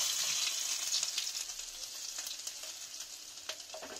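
Garlic sizzles in hot oil for a Punjabi kadhi tadka, a steady loud frying hiss with faint crackles and stirring, heard alone.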